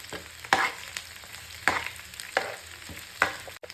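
Onions sautéing in a pan over a low flame, with soft frying crackle and a few louder scrapes of stirring spaced through the short stretch, close and moderately quiet with no talk.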